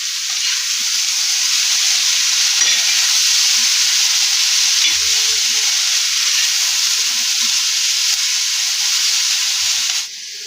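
Ingredients for egg chaat sizzle and hiss in a hot pan as they are stirred, a loud, continuous fry with soft scraping and no talk.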